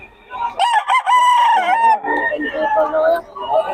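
Red Kelso gamefowl rooster crowing at a market stall, a loud close drawn-out crow with clucking and voices around it.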